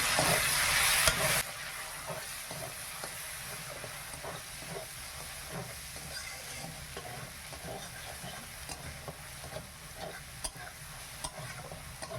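Ginger frying in a pan for vegetarian khichuri, with turmeric and chilli powder just added: a loud hiss at the start drops to a steady low sizzle, broken by soft scraping and spatula taps throughout.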